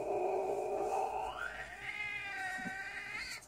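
A cartoonish cat from the video game Don't Pet This Kitty yowls and caterwauls, a loud, drawn-out tonal cry that bends upward partway through, heard alone and close with no speech.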